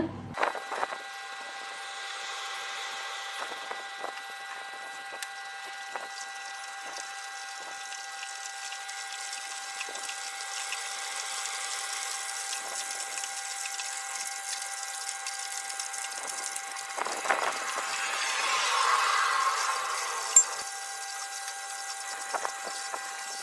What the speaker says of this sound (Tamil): வெண்ணெய் உருகிறப்ப அதில் இருக்கிற தண்ணி வந்து ஆவியாகி போகிறதுனால அந்த சலசலன்னு அந்த சத்தம் உங்களுக்கு கேட்டுக்கிட்டே இருக்கும்